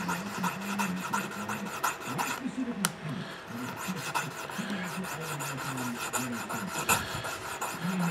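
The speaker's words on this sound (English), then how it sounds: "sanding on stainless steel, the sandpaper isn't going to last very long" Stainless steel leather pricking irons rubbed back and forth on sandpaper, a steady close rasping scrape repeating in quick strokes throughout.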